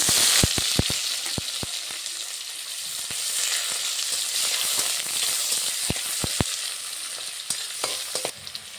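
Chopped onion frying in hot oil with a whole bay leaf and cumin seeds for a fish, potato and taro vegetable dish, a loud, close, continuous sizzle broken by sharp clicks of a spatula against the pan.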